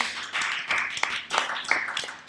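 A crowd applauds a behind-the-scenes editor at a year-end epilogue show, with a dense, steady wash of clapping that swells in a few louder bursts and continues without talk.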